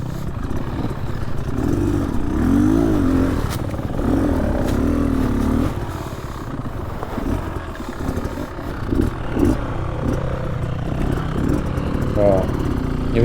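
An enduro motorcycle engine revs and strains on an off-road track through ferns, loose dirt and rock, its note rising and falling in bursts of throttle, loud and close throughout.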